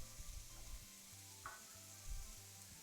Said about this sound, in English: So our butter's melting down.